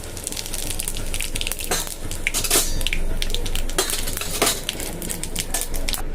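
Whole cumin seeds hit hot oil in a pan already holding bay leaves, giving a dense, steady crackle and hiss with a few sharper pops and clinks of utensils, close and continuous.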